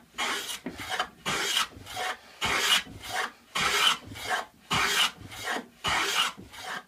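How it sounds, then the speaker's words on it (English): A hand plane is pushed along the face grain of a wooden board in eight regular rasping strokes, each about half a second long with short gaps between them, close and clear with no voices. "plane the face grain with the grain of a piece of wood"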